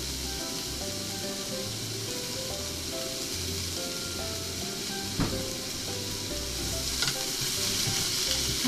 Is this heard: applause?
no